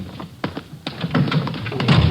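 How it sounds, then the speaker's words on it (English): A door on a radio drama is handled with a few hollow thunks and taps, then the latch and creak of it opening, brief and fairly close. "Just a minute, I'll get the door here."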